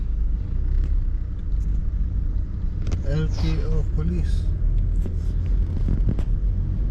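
Slow midnight traffic crawls along a Philippine expressway toward a toll plaza, a steady low engine rumble that fills the whole stretch while someone talks over it.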